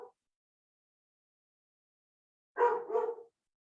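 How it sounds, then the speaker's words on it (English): A dog barks: one brief clipped bark at the start, then after a silent pause two quick barks close together, moderately near. "Excuse my dog barking."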